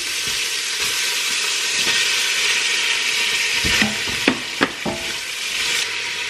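Meat sizzling in a hot pan with onion and garlic, a steady bright frying hiss with a few sharp scraping stirs near the end, close and alone.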